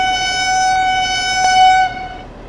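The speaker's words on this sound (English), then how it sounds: "Just hoot the horn to warn people what's going on." A train in Train Sim World 2 on the Tharandter Rampe Dresden–Chemnitz route, reversing as a loud, sustained horn tone plays before cutting off.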